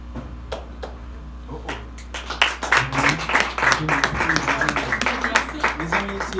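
A church congregation claps in a loose, building patter that starts sparse with a few hands and swells into steady, moderately loud applause, with voices murmuring underneath.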